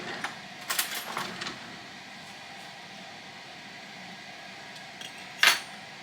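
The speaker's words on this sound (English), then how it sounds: "let me grab a fork" Cutlery clinks as a fork is picked up in a home kitchen: a few quick light metallic taps early, then a sharper clink near the end over a quiet background.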